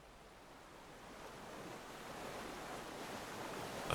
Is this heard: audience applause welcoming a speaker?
no